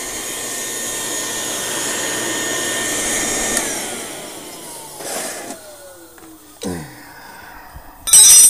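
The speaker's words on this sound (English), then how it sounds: "Yeah, it's kind of sooty. I gotta vacuum it out." A vacuum cleaner sucks soot out of a Becket SR oil-fired scotch marine boiler, running with a steady loud whine, then shutting off and winding down, followed by a few close clunks and bumps.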